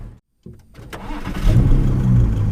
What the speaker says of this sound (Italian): sto guidando la nuova Ford GT